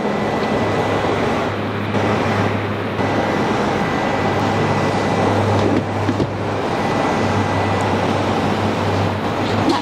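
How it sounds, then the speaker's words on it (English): A Qantas Link E-Jet airliner at Brisbane Airport gives off a steady, continuous jet roar with a low droning hum, loud and unbroken throughout, heard from an outdoor spotting spot. "lined up behind that then is our E-Jet off to Cairns in Qantas Link colours"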